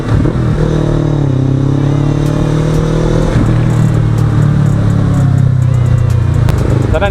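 A motorcycle rides along an expressway on the TPLEX and NLEX routes, its engine a steady, loud drone with a sustained low hum and road rush, unbroken for several seconds.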